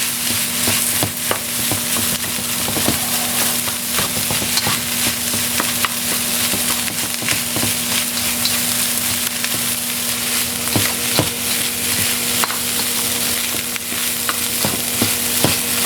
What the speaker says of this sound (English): we're going to add the rice back in. And mix this all together